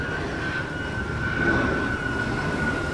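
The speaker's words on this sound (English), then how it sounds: "I've got a plane going over" An airplane flies over a garden with a steady, droning engine roar and a faint high whine, constant and moderately loud, with no one talking.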